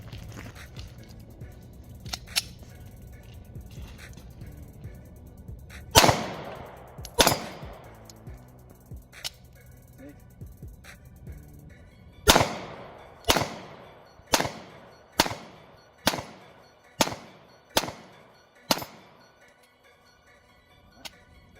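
Glock 43X pistol fitted with Strike Industries parts firing outdoors, two sharp shots followed after a pause by a steady string of about seven evenly spaced loud reports, with faint clicks between.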